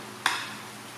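Pork ribs with lemongrass stir-fried in a pan give one sudden sizzling burst as they are tossed, then a soft fading hiss, close by with no talk.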